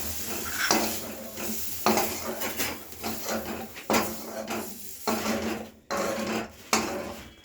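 Lightly fried paneer lifted out of a pan, with repeated scraping and clinking of a utensil against the pan in uneven strokes, close and fairly loud, with a faint sizzle underneath.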